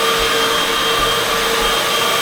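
A vacuum cleaner running on carpet in carpet mode, a loud, close, steady whine and roar that holds unbroken throughout with no talk.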